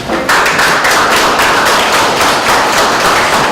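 Steady, loud audience applause at an evening program fills the space, dense clapping that starts abruptly and holds level without pause.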